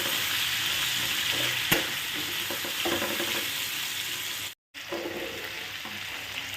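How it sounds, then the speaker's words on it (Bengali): Dalia sautéing with papaya, carrot and potato in a pan, a steady close sizzle with light stirring scrapes and a brief cut in the sound near the end. "দিয়ে এটাকে ভালো করে একটু কষাতে হবে।"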